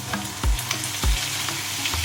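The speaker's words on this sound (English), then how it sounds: "Then we're gonna basically saute it until it sort of browns." Garlic, ginger and onions saute in a pan for chicken biryani, a continuous close sizzle with a few stirring knocks and scrapes of the spoon.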